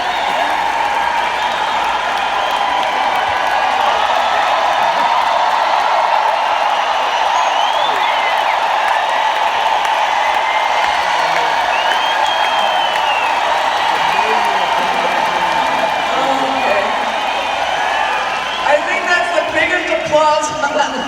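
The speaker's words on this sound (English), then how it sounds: "I bet you don't even know why you're clapping" A large concert crowd at a show claps and applauds in a steady, dense wash that holds for about twenty seconds, with scattered cheers, before thinning out near the end.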